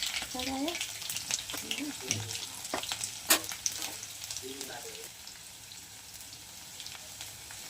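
Mustard seeds, cumin and chilli powder sizzle in hot oil for a potato, capsicum and pea curry, a continuous crackling fry with sharp pops and spoon taps, a voice speaking briefly over it.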